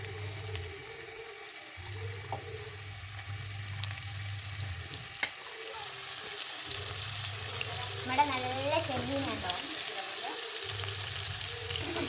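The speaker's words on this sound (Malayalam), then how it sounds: "ഇതാണ് പൊരിയുന്നത് നമ്മുടെ നല്ല ചെമ്മീൻ ഇവിടുന്ന് പൊരിഞ്ഞെടുക്കുന്നുണ്ട്" Steady sizzling of prawns frying in a hot non-stick pan, with the crackle swelling in bursts and occasional stirring clatter.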